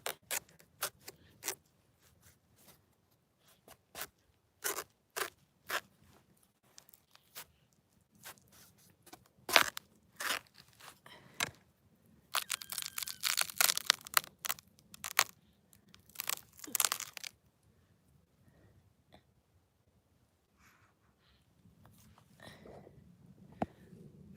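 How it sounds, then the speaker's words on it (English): A kohlrabi being cut in halves with a knife, heard as scattered close, sharp crunches and cracks with a denser burst of crunching in the middle, quiet background between cuts, no talk. "I'll cut it in halves"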